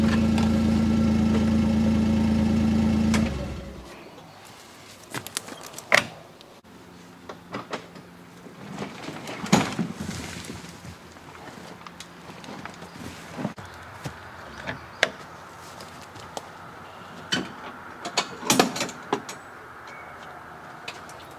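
A Kawasaki Mule Pro FXT utility vehicle idles for a few seconds before its engine cuts, followed by scattered clunks, scrapes and rattles as the dump bed tips and empties its load.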